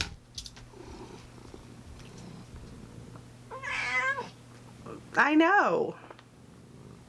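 A cat purrs softly, then gives two drawn-out meows, the second louder and rising, while someone speaks briefly nearby.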